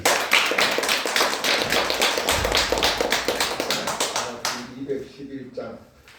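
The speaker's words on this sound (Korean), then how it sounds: "박수 한번 해주세요." A church congregation applauding after a sermon, a dense burst of clapping close and loud for several seconds before it thins out and fades.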